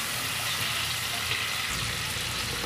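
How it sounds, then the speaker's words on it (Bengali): Prawns fry in oil in a pan, a dense, continuous sizzle that stays even and close throughout, with no voices. "অ্যাড করে দিচ্ছি চিংড়ি মাছগুলো। একটু ভালো করে ভেজে নেব"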